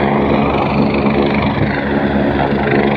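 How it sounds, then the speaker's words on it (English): A rescue helicopter on a mountainside at night spins up its rotor, a loud, steady close-range roar of engine and blade thrum that holds without a break. "the helicopter's spinning its blades out"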